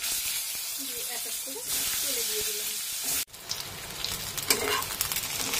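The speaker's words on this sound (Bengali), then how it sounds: "আমার কিন্তু পটলগুলো খুব সুন্দর করে লাল লাল করে ভাজা হয়ে গেছে" Pieces of pointed gourd frying in hot oil with a little turmeric, a steady broadband sizzle and hiss that cuts out briefly, then resumes with scattered crackles and spits.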